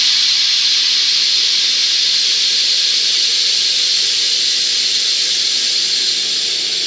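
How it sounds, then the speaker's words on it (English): Compressed air from an air compressor hisses steadily through the air assist nozzle of an OmTech laser cutter, loud and continuous with no talk. "I can control and raise or lower how much air is coming through off of my air compressor."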